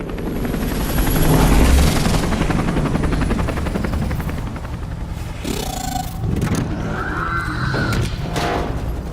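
A helicopter drones loudly and steadily throughout in the video game Detroit: Become Human, its rotor thrumming close by, with crashes and other game effects mixed in.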